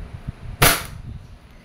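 A single sharp crack from an E&C Glock 17 Gen 5 airsoft pistol firing, loud and close, with quiet room noise before and after.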